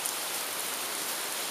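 Steady rain pours down outside a garage, a dense, even hiss of drops striking surfaces nearby, constant and fairly loud throughout with no voices.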